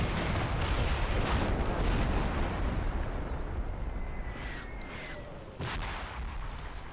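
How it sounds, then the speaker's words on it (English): Mortar barrage explosions in the video game Combat Mission Black Sea, a dense run of heavy booming impacts rolling together, with a sharp burst near the end. "So we've got this mortar barrage coming in still."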